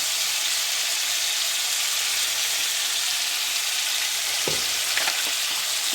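Chopped vegetables with salt sauté in a pan, with tomato added, giving a steady, close frying hiss throughout and a brief clatter of stirring near the end.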